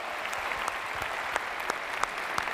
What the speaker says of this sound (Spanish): ¡Un aplauso para Josué!